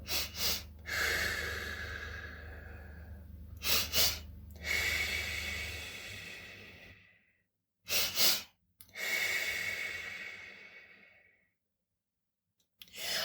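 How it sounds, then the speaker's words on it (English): Slow, deliberate calming breaths, drawn in through the nose and let out through the mouth, heard up close as about three long breath cycles with brief silent pauses between them and no talking. "So I'm using my nose to breathe in and I'm using my mouth to breathe out."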